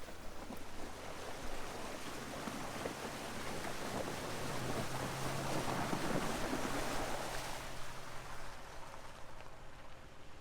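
A Range Rover Classic fords a wide, shallow river on an overlanding trip in Trollheimen, Norway, with steady rushing and splashing water over a low engine drone that swells midway and eases, close and continuous with no talk.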